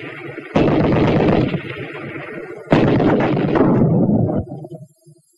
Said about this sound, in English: It doesn't have to be a tank for the anti-tank grenade to go to work.